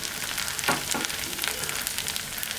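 Flattened rice (poha) frying in ghee in a pan, a steady bright sizzle with a few louder crackling bursts, close and continuous with no talking.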